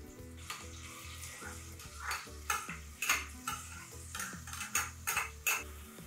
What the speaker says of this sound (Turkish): Soğan ve sarımsakla beraber bir süre kabaklarımızı kavuracağız.